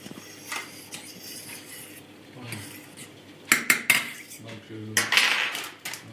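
Pasta stirred in a cooking pot, with a metal utensil scraping and clinking against the pot in irregular bursts, close and fairly loud, with quieter stretches between strokes.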